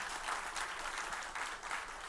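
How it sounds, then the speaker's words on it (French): Steady, continuous applause from an audience at a school quiz match between two lycées, honouring the Lycée Benoît Batraville team, fairly soft and distant, with no voices over it. "je vous demande de les applaudir"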